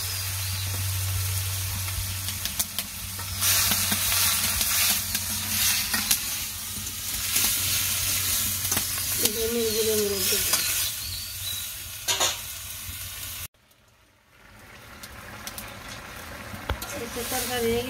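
Curry with chilli and turmeric sizzles and fries in a pan as a spoon stirs it, a steady broadband hiss with scraping strokes and a brief drop near the end.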